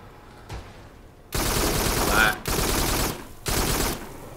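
Gunfire at large aliens in the VR shooter Farpoint: three long, loud bursts of rapid automatic fire separated by brief pauses, preceded by a faint single shot.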